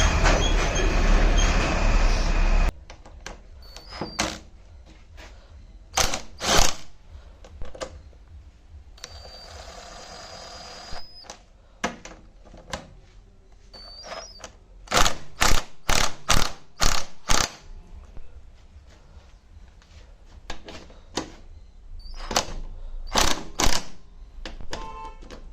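A ratchet tightens bolts on a top rack for a TVS Apache 160 4V motorcycle, with close bursts of rapid clicking repeated over and over and quiet pauses between them, after a loud stretch of noise at the start.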